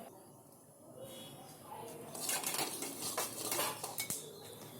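A ladle scrapes and clinks against a metal pan while spicy puffed rice with oil and chutney is tossed and mixed, the scraping growing busier and louder partway through, with faint speech in the background.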